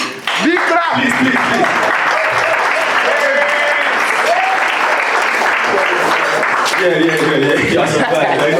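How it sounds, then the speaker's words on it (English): An audience at an alumni chapter inauguration ceremony in Togo breaks into loud, sustained applause that fills the room, with a voice speaking and others chuckling over the clapping throughout. "Big clap! Please."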